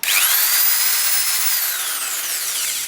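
An Ozito 260W electric file sander runs steadily with a high whine that drops slightly in pitch as it settles, loud and close, with no voices.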